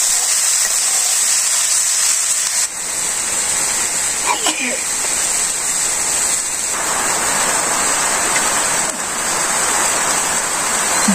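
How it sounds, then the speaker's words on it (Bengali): Heavy rain falling outdoors in a village, a steady dense hiss that stays loud and unbroken throughout, with faint voices and brief clatter mixed in. "বৃষ্টি আর বৃষ্টি।"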